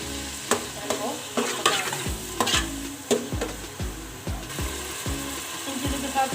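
Ground green chilli, ginger and garlic fry with tomatoes in a pan for a Karachi biryani, sizzling steadily while a spoon scrapes and stirs in repeated sharp strokes, close and with no talking.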